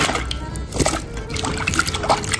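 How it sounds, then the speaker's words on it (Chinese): Cut potato strips are rinsed by hand in a bowl of cold water, with close, continuous sloshing, trickling and light splashing over a couple of seconds. "切好以后放在冷水盆里面，把表面的淀粉淘洗一下"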